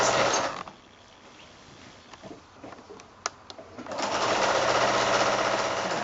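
A sewing machine stitches quilt binding in fast whirring bursts, running loud at the start, pausing with a few soft clicks and taps, then starting up again at full speed.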